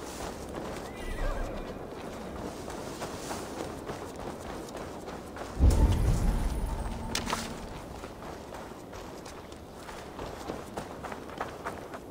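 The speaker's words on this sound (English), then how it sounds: "Now to deliver Magni his horse" A horse in the video game Assassin's Creed Valhalla lets out a loud, close whinny midway through, surrounded by hoof clatter and game ambience, with no talk.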